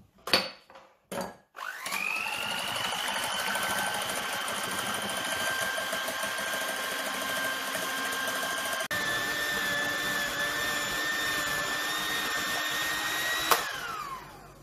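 An electric hand mixer whips 60 centilitres of liquid cream into chantilly, starting after a few short bursts into a steady high motor whine that shifts slightly in tone partway through, close and continuous until it stops.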